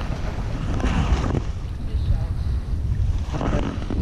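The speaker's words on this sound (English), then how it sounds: "I know it's really, really windy and choppy" Strong wind buffets the microphone in heavy, rumbling gusts over choppy water, with splashing faintly underneath.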